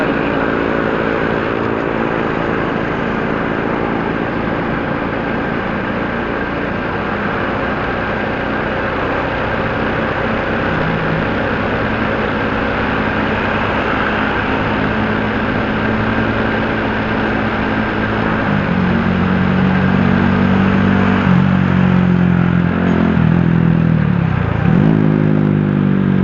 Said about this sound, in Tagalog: Semi-muffler yung motor niya